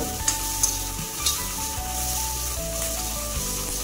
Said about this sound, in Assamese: পিঁয়াজটো অলপ ৰঙা কৰি লওঁ পিঁয়াজৰ যিখিনি মানে ৰস আছে সেইখিনি উলিয়াব দিছোঁ